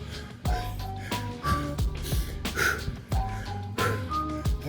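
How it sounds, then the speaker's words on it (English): Heavy, rhythmic breathing from someone doing a no-equipment bodyweight plank and dip workout, loud and close, with sharp puffs and exhales repeating every second or so over background music. "You can hear me breathing."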